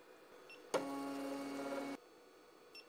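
A Geeetech E180 3D printer homes its axes to the end switches, giving one steady motor whir of just over a second that starts and stops sharply, with faint ticks before and after.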